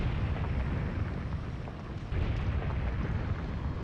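Bombs dropping in a modern battle video game set in Africa, a loud sustained roar of rumbling explosions with a fresh burst about halfway through.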